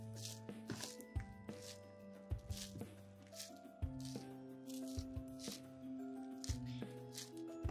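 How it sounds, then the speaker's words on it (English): Sticky Rice Krispies cereal squished and clumped by hand into brain shapes for Halloween party food, giving close, irregular crackling, crunching and squelching with sharp snaps throughout. "Wow, listen, makes such a cool crackling sound"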